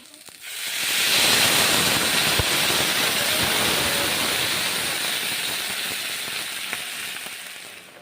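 Water hits a hot pan of moong dal and eggplant, bursting into a loud steamy hiss that swells quickly, holds steady, then slowly eases off.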